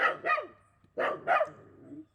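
A dog barks four times in two pairs, loud and close, with a short gap between the pairs and no talking.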